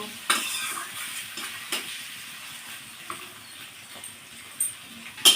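Fish curry masala with potato and pointed gourd being sautéed in a pan, a few scattered spoon scrapes and clinks over a faint low sizzle, mostly quiet between strokes.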